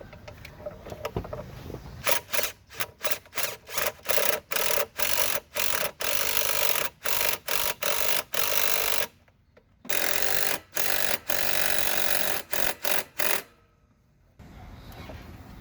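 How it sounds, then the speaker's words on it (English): An 11mm wrench snugs down the up-pipe and down-pipe turbo clamps on a 6.0 Powerstroke, giving a long run of quick, close metallic ratchet clicks in bursts, with short pauses between strokes and no talking. "you'll take your 11mm and get them snugged back down."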